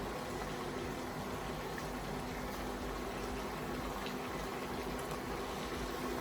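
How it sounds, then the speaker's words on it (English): Ma Po tofu sauce with chili oil bubbles at a steady, continuous rolling boil, a dense close-up simmering hiss with no talking. "that has come back to a boil"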